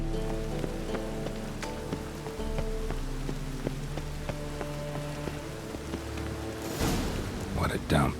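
Rain in The Witcher 3 video game patters steadily on surfaces, a constant close hiss with scattered drips, overlaid by soft game music and a brief voice near the end.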